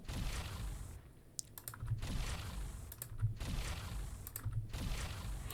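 Computer keyboard typing in steady bursts of clicks, close and moderately loud, with short pauses between groups of keystrokes and no speech.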